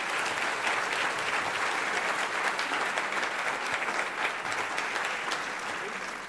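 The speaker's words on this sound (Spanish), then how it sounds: "un aplauso para usted con mucho cariño" An audience at a library conference gives sustained, dense applause, steady and fairly loud, fading slightly toward the end.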